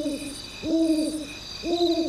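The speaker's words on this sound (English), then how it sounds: "From outside, another owl in the forest called out into the night." An owl in a night forest gives three low, hollow hoots spaced roughly a second apart, each clear and fairly close, over a faint high-pitched insect or ambient drone.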